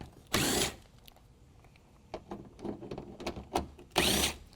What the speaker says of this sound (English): we're going to take out these 2 bolts that are in the front of the fender well